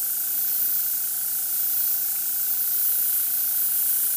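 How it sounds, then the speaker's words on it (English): An airbrush gun sprays paint for a sunset picture, giving a steady close hiss of air with an even, unbroken level throughout and no talking. "when you start painting, you'll just very gently take your gun and start to spray."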